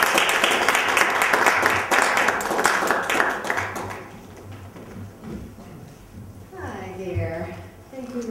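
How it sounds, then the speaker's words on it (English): Audience at a poetry reading applauds Maureen with dense, loud clapping for about four seconds that then fades, followed by a speaker talking into the room. "Let's give a round of applause for Maureen."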